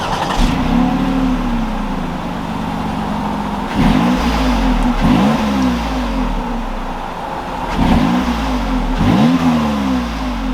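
A 2021 Lexus RX 350 F Sport with the handling package pulls away from close by, its engine revving up and settling several times in repeated rising sweeps as it accelerates through the gears.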